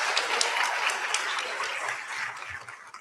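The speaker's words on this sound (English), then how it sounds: "you can clap again" An audience applauds at a health sciences and nursing pinning ceremony for graduates, loud, dense clapping from a crowd that gradually thins and fades over about three seconds.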